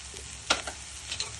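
Chilli frying in a pan while making masala bhindi, a soft steady sizzle with a sharp clatter and a few light stirring scrapes over about a second.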